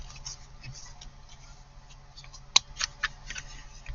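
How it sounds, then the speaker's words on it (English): Scissors cutting paper tabs for recipe cards: a faint background hush, then a sharp close snip followed by a few more crisp snips and clicks near the end, no talk. "I'll cut some tabs for the recipe cards."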